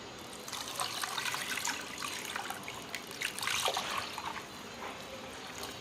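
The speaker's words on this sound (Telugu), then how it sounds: "ఇప్పుడు కలిపేసి వాటర్ వేసుకుందాం" Water pours steadily into a pan of fish curry mixed with tamarind pulp, tomato pulp, salt, chilli and turmeric, a continuous close trickle and splash with no talking.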